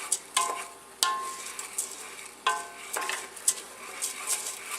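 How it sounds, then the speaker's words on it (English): Rice for wild mushroom risotto toasting in a pan as a spoon stirs it, giving a light crackling sizzle punctuated by several sharp scraping strokes and clicks at an uneven rhythm, close and moderately loud. "So just make sure you keep stirring it"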